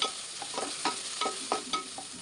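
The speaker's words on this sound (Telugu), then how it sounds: "కొత్తిమీర ఇలా మంచిగా ఫ్రై చేసుకోవాలండి" Coriander leaves frying in hot oil with mutton and bottle gourd curry, a steady sizzle broken by about half a dozen sharp scraping stir strokes, moderately loud and close, with no voices.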